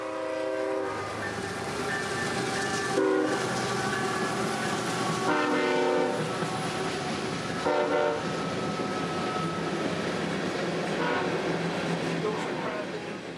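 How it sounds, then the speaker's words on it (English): CSX freight train S311 with loaded tank cars from Blunt Island rolls past at noon, its horn sounding in repeated loud blasts over the steady rumble and clatter of the passing cars. "CSX would be sending by our train of the day, symboled S311 from Jacksonville"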